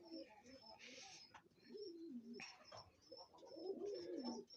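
A newly hatched Egyptian Swift pigeon chick gives soft cooing calls, close by and faint, mixed with low murmured talk and a steady background hum.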